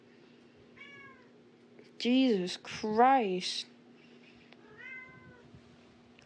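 A house cat meows several times, a short meow followed by two louder, drawn-out insistent cries and a softer one at the end, heard close in a quiet room with a faint steady hum behind.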